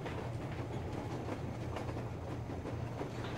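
A train in the Metro Exodus video game rolls along quietly, a faint steady rumble with soft rhythmic clatter from the wheels.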